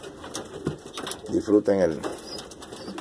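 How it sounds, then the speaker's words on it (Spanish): Breeding pigeons in a loft coo in a brief burst of soft, throaty calls amid faint wing and shuffling noise, while someone speaks nearby. "Vamos a darle salida a todas estas palomas que están criando y todo"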